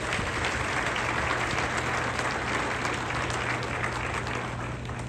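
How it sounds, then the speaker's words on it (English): A steady, full round of applause from an audience at a VinFast electric vehicle factory groundbreaking ceremony, continuous dense clapping throughout with no pauses. "Can we get another round of applause for all of our speakers today?"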